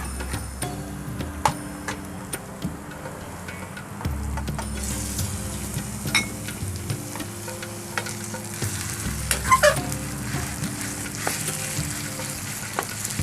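Pork stir-fries in a pan for northern Thai nam prik ong, a steady close sizzle with scraping and stirring clatters throughout and no talking.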